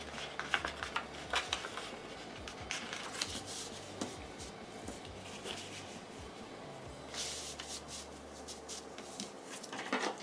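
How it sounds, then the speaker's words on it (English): Scissors cut through the inner fabric layer of a homemade face mask, a run of quiet crisp snips and rustling cloth scattered over several seconds. "Cut the inner layer."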